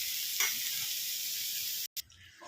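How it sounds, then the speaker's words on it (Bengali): Papaya pieces frying in a pan give off a steady, close hiss of sizzling oil that cuts out abruptly near the end, then returns softer. "তো এটাকেও ভালো করে ভেজে নিয়ে ফিরছি।"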